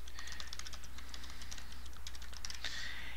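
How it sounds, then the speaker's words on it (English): Rapid, uneven keystrokes on a computer keyboard while a website domain is entered, close and fairly quiet, with a steady low electrical hum underneath and no talking. "I'm going to type in my domain"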